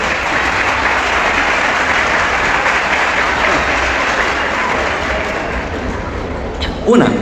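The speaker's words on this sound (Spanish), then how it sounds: "No, insisto, aplausos primero." An audience at a religious debate applauds, a broad continuous roar of clapping running steadily at moderate level, tapering slightly near the end with a brief louder burst.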